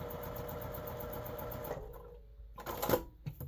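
A sewing machine stitching quilt blocks runs with a steady fast mechanical whir, then stops and restarts with a few clicks, close and moderately quiet.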